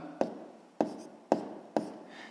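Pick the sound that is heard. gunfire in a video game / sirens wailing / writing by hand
writing by hand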